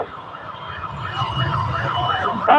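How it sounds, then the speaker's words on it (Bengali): An ambulance siren wailing amid a crowd at a street gathering, a loud rising and falling tone up close with a murmur of voices underneath. "অ্যাম্বুলেন্সটাকে আপনাদের পিছনের এই পাশ থেকে বের হয়ে আসতে দেন"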